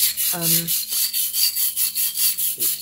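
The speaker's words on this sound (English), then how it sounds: "the rest I'll scrub off in here underwater" A fused glass piece is scrubbed underwater in a craft workshop, giving a steady rhythmic rubbing and swishing, about a dozen even back-and-forth strokes, close and fairly loud, with a brief voice-like murmur early on.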